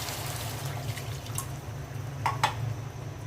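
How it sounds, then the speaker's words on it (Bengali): A small splash of water goes into a pan of potato and snake gourd curry, a soft trickle and a couple of light drips over a low steady hum, with no voices. "এখন অল্প করে পানি দিয়ে দিচ্ছি"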